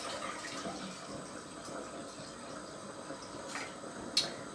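Water is poured into a pot to make broth with daikon and onion, a soft, steady splashing trickle close by with a small clink near the end.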